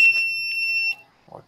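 A buzzer wired to an Arduino board gives a continuous shrill electronic tone that holds steady for about a second, loud and close, then cuts off abruptly.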